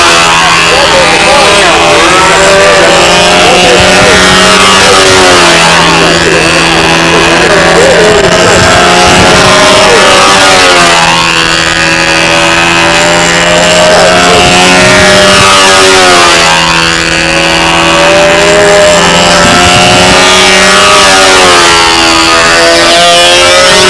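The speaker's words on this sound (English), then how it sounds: "This is a side exhaust Rojet" A side-exhaust Rojet 65 model engine runs loud and steady throughout, its high buzzing note holding with slight swells and dips in pitch, while voices sit faintly underneath.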